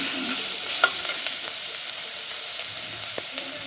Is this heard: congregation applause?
no